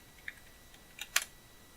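A few sparse, faint computer keyboard keystrokes, set during a Power Mac G5 Quad GPU upgrade, with one sharper click near the end and no talk.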